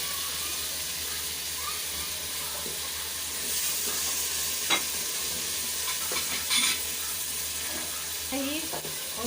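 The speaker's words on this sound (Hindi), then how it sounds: "पाँच मिनट तक इसकी भुनाई करेंगे।" Tomato and chili paste with ginger and garlic frying in a pan for kari pakora, a steady soft sizzle with occasional stirring scrapes, close and alone.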